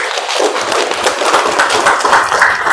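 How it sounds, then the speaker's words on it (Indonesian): A roomful of people at a teacher-training class session applaud together, a dense, steady patter of many hands clapping for the whole stretch without letting up. "Tepuk tangan buat Ricky."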